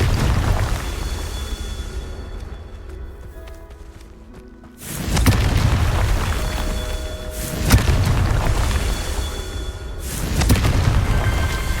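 Confringo spell explosions in the video game Hogwarts Legacy, three loud booming blasts spaced a few seconds apart over a constant rumbling game background, with faint clicks in between.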